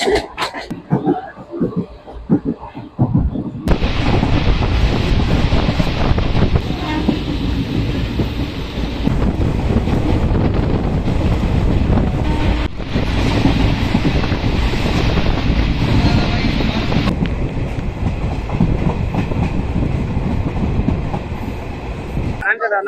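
The Hazarduari Express rolls steadily after pulling out of Plassey station, a loud continuous roar of wheels with rhythmic clatter and wind buffeting the microphone.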